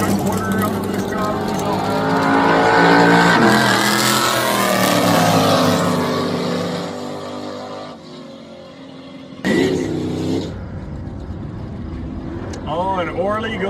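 Pro-class drag race cars, one a Camaro, launching at a strip event, a loud sustained engine roar that swells and then fades, with a commentator talking over it throughout.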